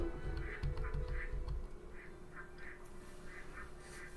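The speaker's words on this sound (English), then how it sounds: "the animals quacking is starting to get really annoying." Repeated duck quacks from the game Baten Kaitos: Eternal Wings and the Lost Ocean, a run of short, regularly spaced calls over a low background hum, fairly faint and without speech.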